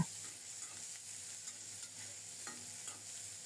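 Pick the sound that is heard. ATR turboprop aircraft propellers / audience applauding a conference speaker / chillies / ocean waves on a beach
chillies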